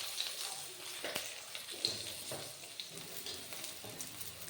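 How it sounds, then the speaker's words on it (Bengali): Brinjal pieces fry in oil with salt and turmeric, giving a soft, steady sizzle close by, broken by a few light clicks and stirring scrapes. "এবার তেল দিয়ে বেগুনটা ভেজে নিচ্ছি।"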